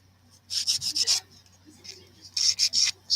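Short bursts of rasping strokes as a hand file is worked back and forth, two quick groups of four or five rubbing passes separated by a pause, close and fairly loud, with a low steady hum beneath.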